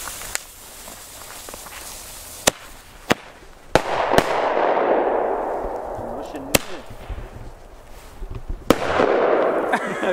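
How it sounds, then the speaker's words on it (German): Flashbang firecrackers going off outdoors in Czechia: a string of sharp loud bangs spread across the stretch, some followed by a long hissing burst and crackle, with people talking between them. "Flashbang, Flashbang, Flashbang, go."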